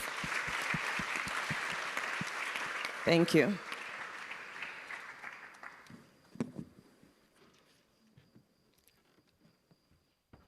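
Applause for panelists at the World Food Forum closing ceremony starts full and close, then thins and fades over several seconds. A voice speaks briefly as the clapping dies, and sparse scattered claps remain in near quiet.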